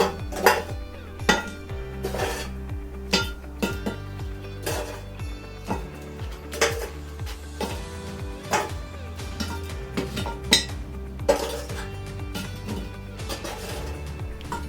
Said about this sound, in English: So the lid goes on, and we're going to load the lid now with our coals.